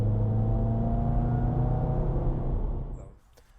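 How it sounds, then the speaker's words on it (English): A manual-transmission car engine revs up as the gas is pressed and the clutch slowly released, a steady close rumble with a clear rising note, then fading down into near quiet at the end. "revving up a little bit with the gas and then slowly releasing the clutch"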